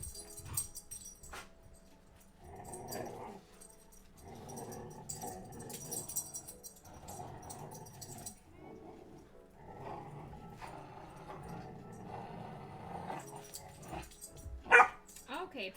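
Dogs barking and growling in bursts at moderate distance, interspersed with a person talking and a brief loud thump near the end.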